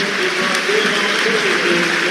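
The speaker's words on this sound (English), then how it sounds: "That is a deserved round of applause for Kyle Noyle as he leaves the field" Football crowd at a Mansfield Town versus Arsenal FA Cup match applauding a substituted player as he leaves the field, a broad continuous roar of clapping and noise from the stands.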